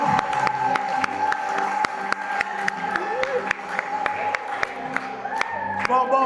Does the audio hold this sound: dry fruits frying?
no